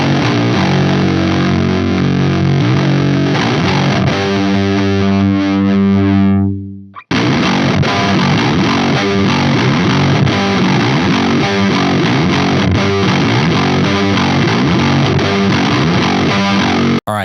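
Electric guitar played through an emulated Proco Rat distortion pedal: loud, saturated sustained chords ring out, cut off abruptly, then return as a heavy, rhythmic chugging riff without any talk.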